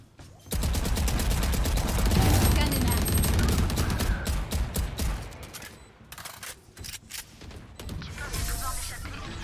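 Rapid bursts of automatic gunfire and shots from the video game Valorant rattle loudly and almost continuously, thinning into scattered cracks toward the end.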